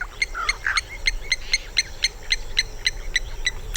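Birds on an open African floodplain, agitated by a passing cheetah, repeat sharp chirping calls in a quick, regular rhythm, clear and moderately close over a quiet background.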